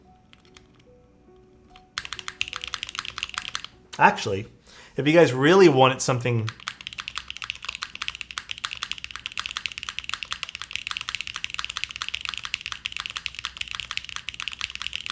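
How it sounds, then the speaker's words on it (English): Rapid clacking keystrokes on a custom Kohaku mechanical keyboard with a mic mounted under the spacebar, a dense close-up rattle of switches that starts after a quiet lead-in and continues steadily, briefly interrupted by someone talking. "Keyboard with a mic under the spacebar."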